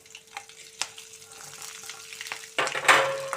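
Halved green chilies sizzle and crackle in hot oil alongside fenugreek seeds and cumin, with a few sharp stirring clinks, and the frying surges louder and denser toward the end.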